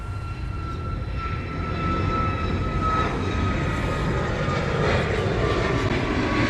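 A Qantas airliner on the ground at Honolulu airport gives off a steady, distant engine roar with a faint high whine that slowly builds, continuous and unbroken, with no voices.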